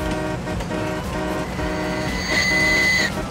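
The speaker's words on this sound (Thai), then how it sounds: "รถไฟมา" A train horn blares in the game Farming Simulator 19 over a steady engine rumble and road noise, loud and close, holding for under a second before cutting off.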